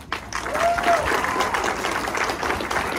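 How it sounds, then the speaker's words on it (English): At the CoasterBash event, a roller coaster fan gathering, an audience gives presenters a round of applause, steady clapping mixed with a few scattered whoops from the crowd. "huge round of applause for all the presenters tonight"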